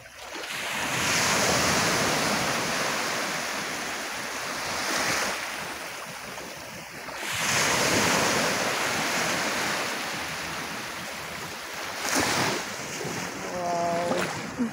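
Sea waves wash and surge in repeated swells against a steady wind-buffeted roar, with brief splashes and faint voices in the background.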